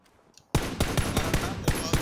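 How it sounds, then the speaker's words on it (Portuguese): Bursts of automatic gunfire in the battle royale game PUBG erupt after a brief quiet moment: loud, rapid cracks in an uneven rhythm, some shots sharper and closer than others. "estou a levar tiros não sei de onde"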